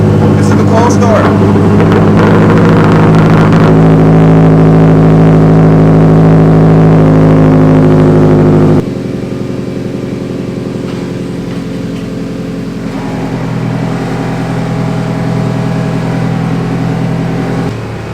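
A 2014 Subaru WRX with a full aftermarket exhaust cold-starts and holds a loud, steady rumbling idle close by, dropping to a lower, quieter idle partway through.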